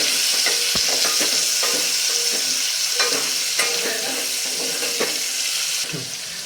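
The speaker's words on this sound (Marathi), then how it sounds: "हा कांदा आता आपल्याला थोडासा सोनेरी रंगावरती परतून घ्यायचा आहे" Finely chopped onion sautés in a pan, a steady sizzle under repeated scrapes and stirs of a spatula, close and fairly loud, with no one talking.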